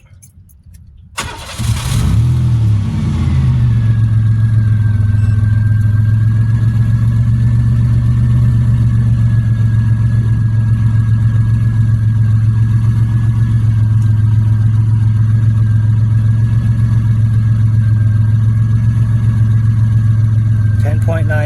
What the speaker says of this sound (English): Alright, so we're going to start the car up.